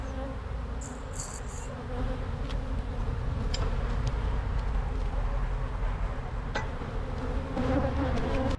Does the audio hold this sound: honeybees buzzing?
yes